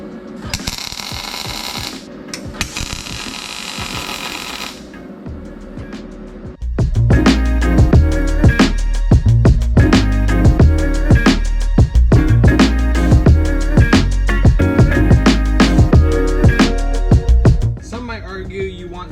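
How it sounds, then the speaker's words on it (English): Brackets being welded onto a winch for a drag truck trailer produce loud, rapid crackling bursts with sharp repeated pulses up close. Earlier noise precedes the welding, and people speak at times. "weld our brackets onto our winch"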